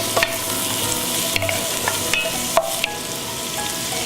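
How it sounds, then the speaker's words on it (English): Chopped onion fries over medium heat in a pan, a steady close sizzle punctuated by several sharp clacks and scrapes as it is stirred. "we're going to cook this up a little until the onion is translucent"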